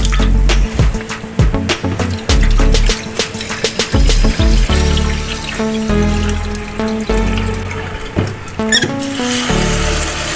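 Rice-washing water is poured out of a pot from the first rinse, a close, loud splashing pour in uneven surges, with music playing underneath.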